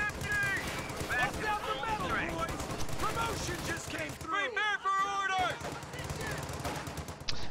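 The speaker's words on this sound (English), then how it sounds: "MG-34 using the armor-piercing rounds right here, trying to push some squads back from the center victory point" An MG-34 machine gun fires armor-piercing rounds in a war strategy game, sounding as rapid bursts of gunfire amid battle noise, with a commentator talking over much of it.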